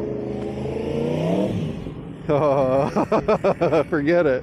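A four-cylinder V superbike engine at a race track, a steady loud drone that breaks into sharp rhythmic revving bursts, with a voice speaking briefly over it.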